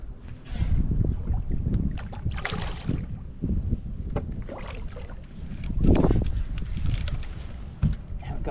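A new boat moves across water with churning splashes and wash, heavy wind buffeting the microphone in surges throughout.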